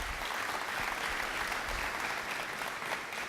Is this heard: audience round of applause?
yes